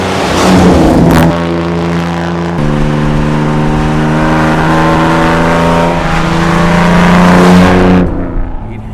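A matching-numbers Aston Martin DB4GT with a special engine revs loudly and steadily, a rich harmonic drone that climbs in pitch over several seconds, holds, then drops off at the end.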